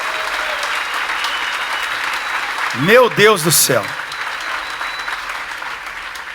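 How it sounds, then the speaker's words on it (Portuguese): Worshippers in a church clap steadily for the people beside them, a broad wash of applause running the whole time while someone speaks briefly midway. "Aplauda de novo quem está do teu lado."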